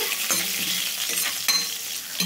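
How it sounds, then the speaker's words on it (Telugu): A loud, close frying sizzle of a tempering with curry leaves hisses steadily in a pan, with brief stirring scrapes, and there is no talk. "చూడండి తాలింపు అయితే వేగిందండి."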